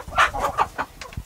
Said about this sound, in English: Sorry for the chickens in the background.